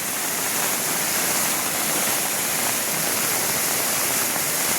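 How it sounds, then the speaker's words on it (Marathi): Constant roar of the Kambalvairi cave waterfall on Agashiv hill near Jakhinwadi, a loud broadband rushing wash that fills the whole stretch without pause or voices. "हा कंबळवैरीचा लेणी धबधबा आहे"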